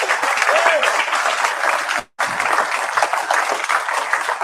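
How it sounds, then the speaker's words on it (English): An audience at a homebrew competition awards event applauds the judges, a dense, steady clapping that breaks off sharply for a moment midway, then resumes. "So, round of applause for all the judges,"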